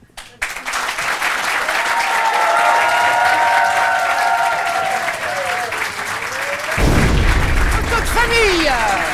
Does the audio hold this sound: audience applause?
yes